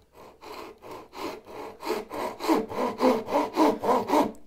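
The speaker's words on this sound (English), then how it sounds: "now we need to cut down the face and remove these little pieces to actually create the tenon" Hand saw cutting down the face of a wooden tenon for a mitered bridle joint, a steady series of about ten rasping strokes that grow louder and fuller toward the end, close and alone.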